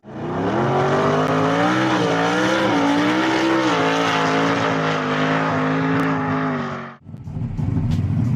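A Hemi V8 in an American muscle car roars loud and steady for about seven seconds, its pitch rising and falling slightly with throttle, then cuts briefly before another burst of rough engine noise.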